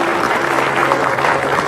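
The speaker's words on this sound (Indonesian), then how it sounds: "kasih tepuk tangan dulu" Studio audience applause on an Indonesian TV talk show, a dense steady wash of many hands clapping at close range, with no break across the short burst.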